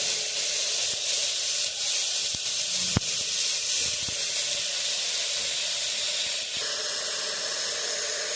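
Chopped brinjal hits tomatoes cooking in a pan, bringing on a loud, steady sizzle and hiss that fills the whole stretch. Small clicks and taps break through now and then.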